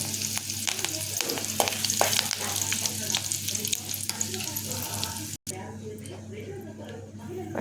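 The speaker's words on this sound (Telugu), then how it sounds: "తాలింపుకు నూనె కాగుతుంది." Oil heats in a pan for a South Indian tempering with dried red chillies, urad dal, chana dal and curry leaves, giving a steady, close crackling sizzle with a brief dropout near the end.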